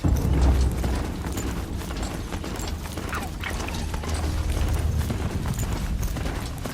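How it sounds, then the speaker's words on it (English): A robotic horse gallops across an apocalyptic landscape in Horizon Zero Dawn, giving a steady mechanical clatter of gears and ratcheting hoofbeats over a low rumbling bed, continuous and close. "Never before would I imagine myself riding across an apocalyptic landscape on a robotic horse"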